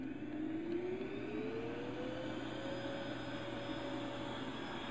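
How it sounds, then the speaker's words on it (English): A vacuum cleaner runs with a steady, close motor whine and a rising pitched whir, continuously without pause, sucking air through an arm cast. "you suck the air through it by turning on the vacuum cleaner"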